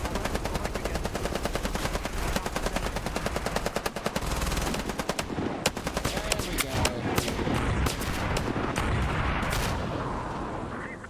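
Rapid automatic gunfire in a VRChat roleplay game, dense continuous bursts of shots for several seconds, then thinning into scattered single cracks and short volleys toward the end.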